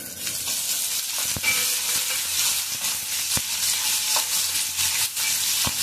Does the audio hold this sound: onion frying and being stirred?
yes